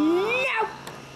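A cat gives one rising, drawn-out meow, close and fairly loud, fading into quiet room noise.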